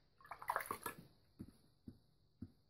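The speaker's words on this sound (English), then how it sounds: "let me wash out my brush here" A paintbrush is swished and rinsed in a water container during a painting session, with a cluster of splashy sloshes followed by three separate soft dips and taps.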